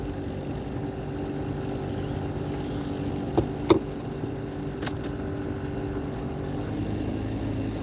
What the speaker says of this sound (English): Now, what you hear is air conditioning.